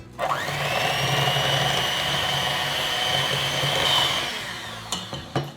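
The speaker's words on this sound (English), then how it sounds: "And then with our hand mixer, let's go ahead and mix this together." Hand mixer whirring through granulated sugar for pumpkin roll batter, a steady close motor whine lasting about four and a half seconds before winding down, followed by a few soft clunks.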